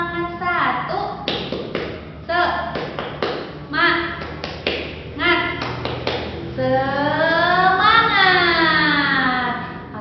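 A third-grade class performs the rhythmic 'tepuk semangat' clapping routine: crisp groups of claps in a set pattern, with children chanting along between the claps, ending in a long drawn-out group cheer.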